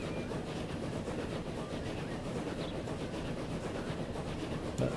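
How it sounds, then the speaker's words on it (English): A train in the Transport Fever game rolls on rails with a steady rumble and faint rhythmic clickety-clack, moderately quiet and continuous, ending with a brief sharper knock. "the train's left without me"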